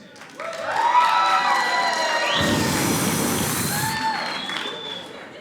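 A comedy-show crowd in Provo, Utah cheers, whoops and claps for singles, rising quickly into loud sustained shouting and whistles, then slowly tapering off.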